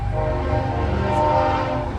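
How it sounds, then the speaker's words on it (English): A train rumbles past close by and loud, a steady low roar with a horn-like tone held through, with no one talking over it. "sorry for the train, guys. My bad, the train."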